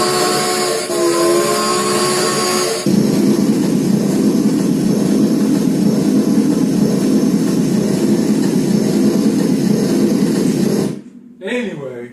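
An 1864-era steam train sound plays from a small model of the Civil War Centralia, Missouri train, a loud, steady rushing roar that runs for about eleven seconds before cutting off abruptly.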